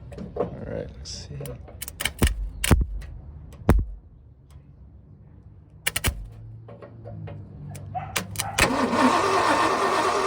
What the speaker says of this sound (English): I put some starting fluid down the carb and jump it and see if we have